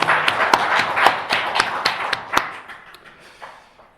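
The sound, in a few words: church congregation clapping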